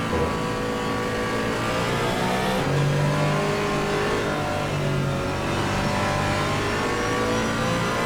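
GT4 race cars, a BMW among them, racing at Spa, heard as a steady, loud engine drone with rising revs as the cars pass, and no talk over it.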